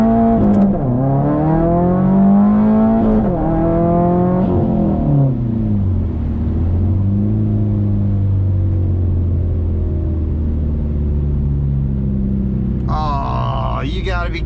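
A Subaru STI accelerates hard from a standstill, its engine revving up loudly through rising pulls with quick gear changes, then settling into a steady, lower cruising drone.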